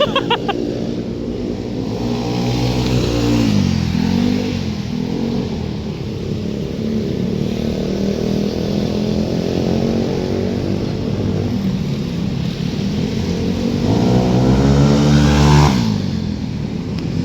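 A motorcycle fitted with a prototype aftermarket exhaust drones loudly up close, its low rumble swelling into rev surges near the start and again toward the end.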